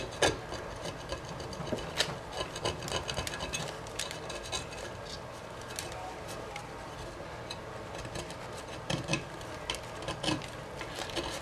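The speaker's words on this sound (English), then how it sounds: "So I'm just scraping as much as I can off." Scraping epoxy and glitter coating off a tumbler cup makes steady close rasping and rubbing strokes with scattered sharp scratches, and a voice is heard at times.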